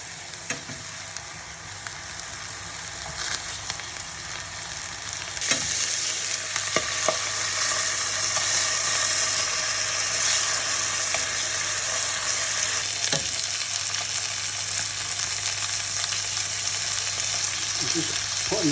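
A flat iron steak fries in a hot pan with a steady crackling sizzle throughout, broken by a few sharper pops and clatters as it is moved around.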